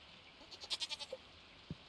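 A goat in Stardew Valley gives one wavering, pulsing bleat of several quick rising and falling beats, fairly soft over a quiet background, followed by a brief low thump.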